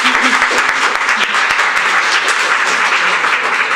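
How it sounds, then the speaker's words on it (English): Loud, dense applause from an audience at a city transportation licensing commission meeting, continuous clapping filling the room close by for the whole stretch. "try to hold down your applause"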